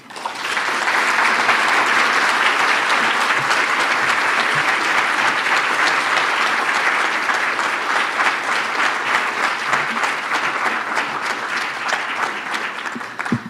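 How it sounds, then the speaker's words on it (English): Sustained audience applause for award recipients at the 2021 Salute to Women Awards: a full room clapping loudly and evenly, swelling in at the start and holding strong throughout without speech. "Let's have another big round of applause for each of our award recipients today."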